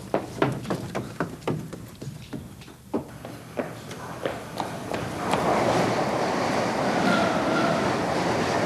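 A train at a station, a rhythmic clatter of wheels over rail joints giving way to a loud, steady rushing roar as it passes close by.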